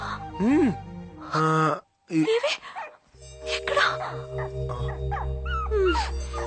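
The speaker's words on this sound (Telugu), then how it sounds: "ఈ కుక్క నాదే." A dog whimpers and yips in high, wavering cries in a film scene, heard between and under people talking and over a steady music bed.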